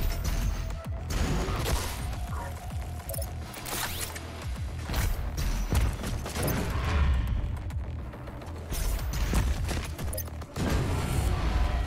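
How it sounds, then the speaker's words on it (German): Rapid, overlapping explosions and gunfire-like blasts from the video game DOOM Eternal crackle almost nonstop, loud and dense, with no talking. "Warum explodiert hier alles?"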